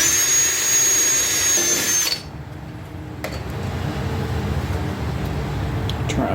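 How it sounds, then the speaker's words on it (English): Work on a garden tractor panel being fixed with pop rivets: a shrill power-drill whine runs for about two seconds and cuts off. Quieter workshop background with faint clicks follows. "what we're going to do is just attach this to the top with some pop rivets"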